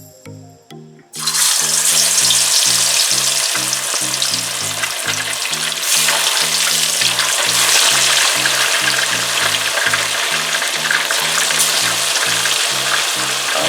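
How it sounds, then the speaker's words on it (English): Pieces of fish fillet drop into a hot pot and sizzle loudly in oil. The frying hiss is steady and close for the whole stretch, and a low rhythmic thumping runs beneath it. "I'll be putting in the pieces of fillet and I'll be frying them on each side for about 3 minutes"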